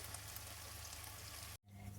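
Cabbage pakoras fry in hot oil in a home kitchen, giving a dense, steady, close sizzle that fills the moment, with one abrupt momentary dropout near the end before the crackle resumes.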